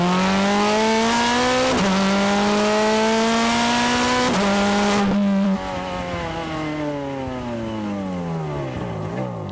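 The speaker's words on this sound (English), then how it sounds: "Listen to the engine note change as soon as my foot drops here. Then listen to the 60 millisecond shifts." A Ferrari 430 Scuderia engine howls loud and close under hard acceleration, its pitch climbing steeply and dropping sharply at each rapid 60-millisecond gear shift, three quick upshifts before the note eases off into a falling whine.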